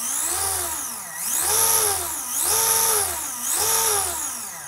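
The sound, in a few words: exosuit 3D-printed gear and pulley spinning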